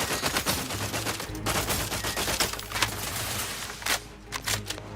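Weapon fire in The Outer Worlds 2, rapid bursts of shots repeating over a steady low game hum, fairly quiet in the mix and without voices.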